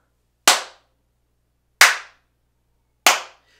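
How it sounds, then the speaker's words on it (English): Three single hand claps, sharp and evenly spaced, in a room treated with acoustic panels. Each snap stops dead with almost no tail, leaving silence in between. "When I clap my hands,"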